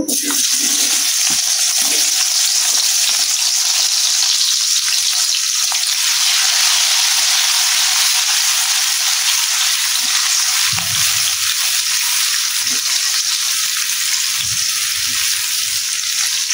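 Onion tossed into hot oil for a mustard-paste chicken curry, bursting into a loud, dense, continuous sizzle that stays strong and close throughout, with a few faint clatters underneath.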